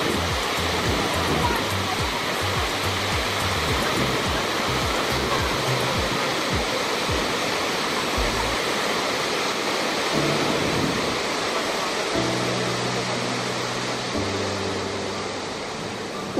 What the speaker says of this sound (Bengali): আর জলের যে কি প্রচন্ড শব্দ, কান পুরো তালা ধরে যাচ্ছে।